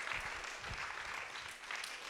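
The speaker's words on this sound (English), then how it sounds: "Yes, round of applause for them" Steady applause from an audience, continuous and fairly even, at moderate distance with no talking over it.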